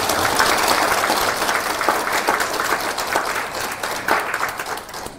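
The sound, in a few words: audience applause welcoming a guest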